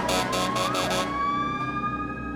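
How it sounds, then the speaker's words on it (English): A fire engine siren wails loud and close, opening with about five rapid blaring bursts before settling into a steady sweeping tone over a rumbling engine, with no voices. "At that moment, a fire engine appeared. Its siren was wailing, and its red lights were flashing brightly."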